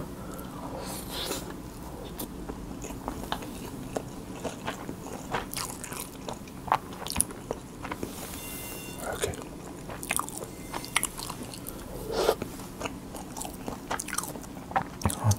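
Close, crunchy bites and wet chewing of kimchi fried rice topped with fried quail eggs, in repeated irregular mouthfuls with small scrapes, intimate and fairly quiet, with no talk.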